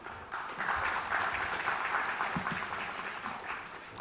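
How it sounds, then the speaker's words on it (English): Steady applause from a conference audience at a tech event, fairly faint and distant in tone, rising quickly and continuing evenly for several seconds before easing slightly. "You want to put your hands together for Mr. Sanjeev Agrawal"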